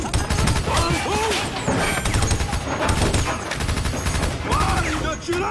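Heavy gunfire from a shootout in the film Logan, dense bursts of rapid shots and crashing impacts filling the whole stretch, with shouted voices mixed underneath.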